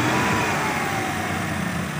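Maruti Eeco van engine idling on gas (LPG/CNG) after switching from petrol, a steady, fairly loud low hum with a faint whine, close by and unchanging, with no talking.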